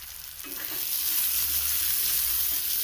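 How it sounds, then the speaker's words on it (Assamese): Vegetables with raw peas fry in a hot pan for a cauliflower curry, giving a steady bright sizzle that swells as they are stirred, close up with no voices. "ভালদৰে ভাজিম এতিয়া লৰাই কৰি।"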